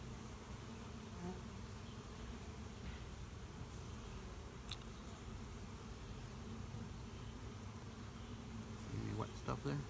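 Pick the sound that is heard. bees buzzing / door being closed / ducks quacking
bees buzzing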